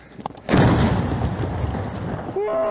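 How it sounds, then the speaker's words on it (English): A house blows apart in wartime combat footage from the Russia-Ukraine war: a heavy, deep boom hits suddenly and rolls on as a long rumbling roar, loud and close, before a faint rising whine at the end. "The house exploded with a powerful explosion."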